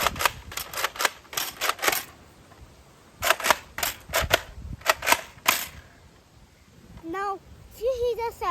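A toy air rifle fires a quick series of sharp, snappy cracks, some clustered, some spaced apart. A short mechanical squeak and rattle follows at the end, with faint talk underneath.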